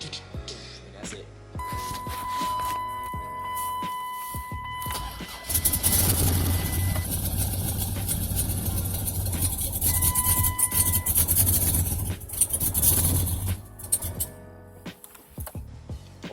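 A 2005 Chrysler 300C with a 5.7L engine, fitted with an aftermarket cam, runs steadily with a low rumbling idle that grows louder partway through, along with a faint tone and some ticking.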